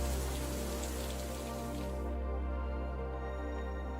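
A rain downpour on the African savanna pours steadily as a dense, loud hiss, with no voices.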